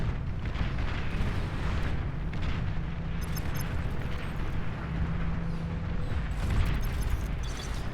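Artillery fire in the strategy game Beyond All Reason, a dense continuous low rumble of booms and blasts with faint higher crackles, steady and loud with no talk.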